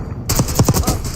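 Rapid video game gunfire crackles in a dense burst of shots, loud and close, opening abruptly after a brief quiet moment with a few distinct thumps in the middle.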